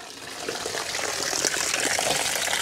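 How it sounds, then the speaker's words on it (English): Water gushing steadily into a roof gutter clogged with debris, a continuous splashing rush that grows slightly louder with no talking. "look how this gutter fills up with water right there"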